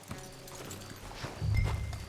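A few soft hoof clops from horses walking, followed by a louder low thud, fairly quiet overall, in the video game Red Dead Redemption 2.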